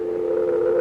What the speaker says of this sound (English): Oh, I got a dial tone.